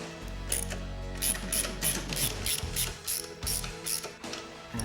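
Ratchet wrench tightening bolts on a Lotus car, a close series of quick metallic clicking bursts repeating in short strokes, with brief pauses between pulls.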